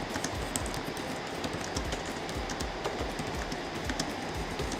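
Typing on an ASUS TUF Gaming F15 laptop keyboard with soft, cushioned keys, producing a rapid, steady stream of quiet muffled keystrokes with no talking.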